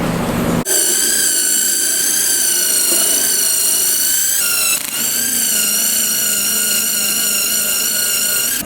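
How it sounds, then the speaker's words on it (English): A power polisher buffs a car headlight after fine-grit sanding, a loud steady high-pitched motor whine with layered tones that dips briefly near the middle before resuming. "now I'm going to wipe it down and polish it."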